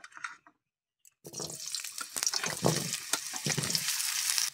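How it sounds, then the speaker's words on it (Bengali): Raw potatoes drop into hot oil in a Bengali home kitchen. After a short quiet gap comes a sudden burst of loud, crackling sizzle that stays dense and bubbling, close by. "পরে তেলটাও গরম হয়ে গেছে, আলুটা এখন দিয়ে দেব।"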